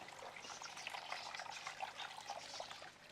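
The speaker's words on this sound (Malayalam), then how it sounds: "അപ്പോൾ നമുക്ക് കുറച്ച് വെള്ളം കളയട്ടെ." Water is drained out of a fish tank, a soft steady trickling and splashing flow heard close and quiet, with no talk over it.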